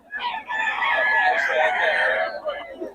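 A rooster crows in one long, strained call, loud and close, framed by brief clucks at the start and end as someone talks about the bird's quality and price.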